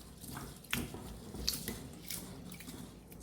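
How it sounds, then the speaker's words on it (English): Katarni rice from Bihar is rinsed in water in a bowl, giving faint soft splashes, drips and gritty swishing of grains, quiet and close with no talking. "Wash the rice a couple of times with water"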